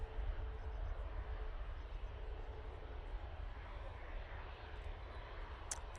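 An Airbus A321neo airliner departing Manchester Airport for Fuerteventura gives a faint, steady, distant engine rumble that holds evenly throughout.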